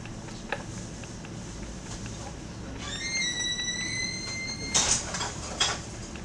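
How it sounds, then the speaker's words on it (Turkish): A door opening in the Minecraft survival video game, a short tonal chime-like sweep partway through, followed by brief bursts, over a steady low background hum. "Kapı sesiydi."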